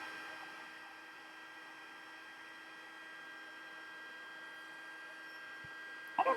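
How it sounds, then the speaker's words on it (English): A handheld craft heat tool warms up on a tabletop while making a folded card, giving off a steady, even electric hum and whir that holds unchanged for several seconds before a brief clatter at the end. "it just takes a minute for the heat tool to heat up"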